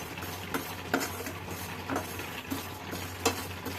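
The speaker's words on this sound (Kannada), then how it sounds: "ಶಾಜೀರಿಗೆ ಇದು ಹಾಕಿದ ತಕ್ಷಣ ಹೆಂಗೆ ಚಟ್ಪಟ ಅಂತ ಅನ್ನತ್ತಂಗೆ ಆಮೇಲೆ ಒಂದೊಂದು ಸಿಡಿಯಾಗ್ತಾವು" Shahi jeera seeds roast in a pan with quiet, scattered crackles and small pops over a soft steady sizzle, with a spoon occasionally stirring.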